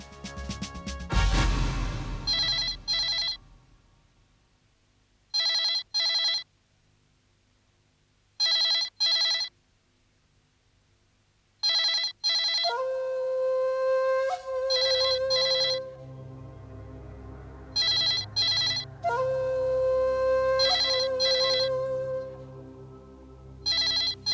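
A telephone ringing in a Hindi crime drama, repeated bursts of a bright electronic ring separated by pauses, loud and clear, with a sustained musical tone underneath in the later part.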